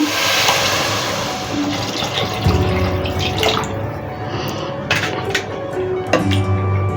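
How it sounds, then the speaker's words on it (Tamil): Water pours steadily into a pot of paneer vegetable biryani with a continuous splashing rush and a few clinks of the pot, close by and without talk. "இப்போ பாருங்கள், நான் தண்ணீர் ஊற்றுறேன் தேவையான அளவுக்கு."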